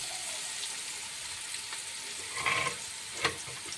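Chopped green onion and green garlic frying in a pan, a soft steady sizzle with a few light clinks and stirring scrapes, close but quiet with no talking.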